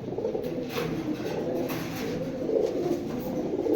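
Racing pigeons in a loft, including a red khaki male, coo in a steady, overlapping murmur that stays close and even throughout, with a few brighter calls rising above the low rolling coos.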